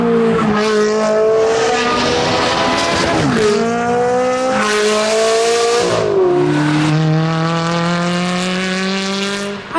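A high-revving Ferrari 360 Challenge engine with sports exhaust screams loudly in the hills, rising in pitch through several gears with sharp drops at each shift, sustained and close.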